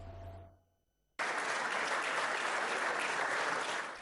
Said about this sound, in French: Tonnerre d'applaudissements pour saluer une carrière politique marquée par l'engagement pour la démocratie mais aussi pour la solidarité africaine